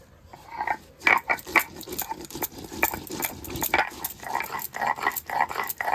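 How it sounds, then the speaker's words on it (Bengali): Rough, rhythmic scraping of ginger, garlic, dried chillies, onion and cumin being ground on a flat stone slab, with repeated close strokes in an uneven pattern and no voices. "আদা রসুন শুকনো লঙ্কা পেঁয়াজ আর এই যে জিরা, এটা আমি শিলে বেটে নেব"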